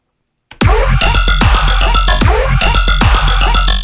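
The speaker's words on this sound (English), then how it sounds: "this really cool sound. It's like the super metallic sound." Harsh, metallic synth tone with clangy overtones, pulsing in a repeating rhythm with low thumps; loud and close, no voices.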